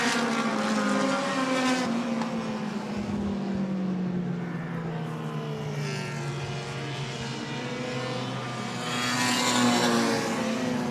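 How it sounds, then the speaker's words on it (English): Mini stock race cars lap Lee USA Speedway, engines droning and rising and falling in pitch as they pass, a continuous loud roar from a moderate distance with no talking. "The winner of the mini stock race is going to be the number 63 of Nick Maniatis, followed by Skeeter Bierce"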